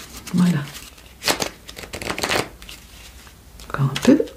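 Oracle cards being shuffled by hand in close, crisp bursts of riffling and rustling, with short pauses between them and soft speech underneath.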